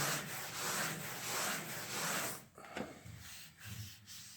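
Hand sanding of a wall during wall prep, a steady rhythmic rubbing scrape in long even strokes, close and fairly quiet, breaking into shorter, irregular rubs toward the end.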